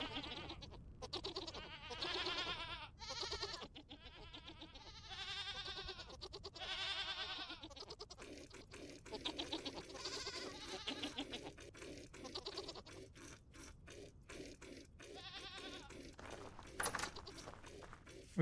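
Goats bleat again and again in the Vintage Story video game, a long run of wavering calls that keep overlapping, over a soft steady background and some faint footsteps.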